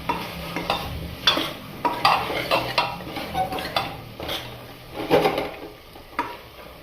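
Chicken pieces cooking on high flame in a pan with spices and coriander, a steady sizzle broken by repeated scraping and clinking strokes of a spatula against the metal.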